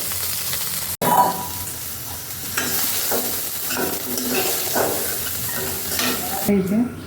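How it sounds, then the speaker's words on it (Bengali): Soya chunks frying in oil until reddish, with a constant close sizzle and the scrape and toss of stirring throughout, a sharp knock near the start and a few clatters toward the end. "আরও করে ভাজবো একদম একটু লাল লাল করে ভেজে নিয়েছি"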